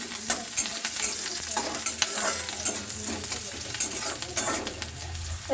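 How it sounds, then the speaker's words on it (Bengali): Water spinach fries in a hot wok with onion and garlic in oil, making a constant close sizzle with frequent clattering stirs and scrapes of a spatula. "কড়াই গরম হয়ে গেছে কলমি শাক ভাজার জন্য আমি পেঁয়াজ দিয়ে দিলাম"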